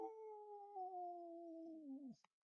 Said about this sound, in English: My dog, right? You can hear.